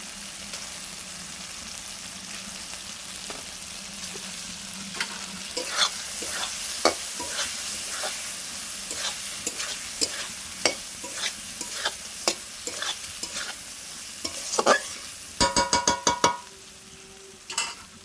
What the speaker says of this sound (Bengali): দেখো মশলা দিয়ে আমার তেল ছেড়ে দিয়েছে, আমি ডিমগুলো দিয়ে কষিয়ে নেবো একটু।